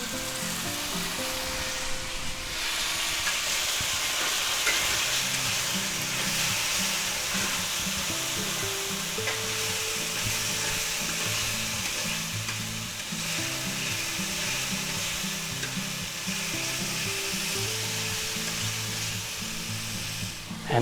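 A tablespoon of minced garlic sizzles in hot oil in a pan over medium heat, a loud, continuous frying hiss with soft stirring scrapes and no talking.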